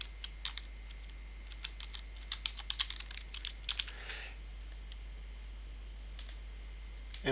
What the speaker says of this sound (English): So we're going to go ahead and type the name.